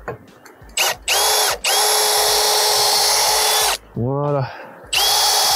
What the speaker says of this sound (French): Ici on va se faire des pré-trous à la mèche avant de visser directement les vis à l'intérieur pour éviter que ça éclate le bois.